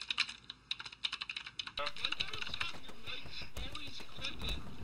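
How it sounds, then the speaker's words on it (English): Rapid keyboard clicking picked up by open voice chat microphones during an online game, bursts of sharp keystrokes at first, then dense continuous tapping over a noisy hiss. "Why guys have your mics always clicking?"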